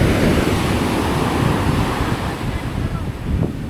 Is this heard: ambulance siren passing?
no